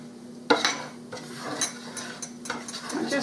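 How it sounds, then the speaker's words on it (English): A utensil scrapes and clinks against the bottom of a pan while gravy is being made, in a few sharp scrapes and taps close by, with no talking. "So now I'm scraping up the stuff that's on the bottom because the goodies are in there."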